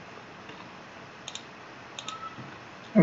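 A computer mouse clicks twice in quick succession, then a second double click about a second later, small and close against a quiet room hiss.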